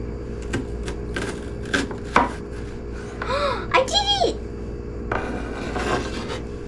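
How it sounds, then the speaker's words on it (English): A knife slices thin strips of onion on a cutting board for an Oklahoma onion burger, giving several close, sharp, irregular cuts and scrapes, with someone talking in between. "We are cutting thin strips of onion."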